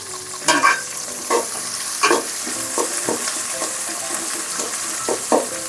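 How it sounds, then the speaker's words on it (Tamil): Onions with salt sautéing in a pan for a broken-egg curry, a steady sizzle punctuated by several sharp spoon scrapes and stirring knocks against the pan, close and fairly loud, no talking. "நல்லா வதக்கி பச்சையாக இருக்கக்கூடாது."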